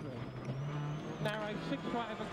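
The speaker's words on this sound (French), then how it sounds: "Voici Konrad Rothenbach dans sa Citroën privée." A private Citroën rally car on a stage of the 2008 Rally Mexico WRC, its engine note rising and shifting as it drives past, heard under a commentator talking.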